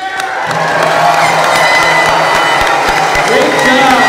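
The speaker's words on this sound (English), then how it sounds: "how about one big group cheer?" A large group at a 2018 Lauana'ole event cheers loudly and continuously: sustained crowd shouting and whooping with scattered clapping, filling the space from start to finish.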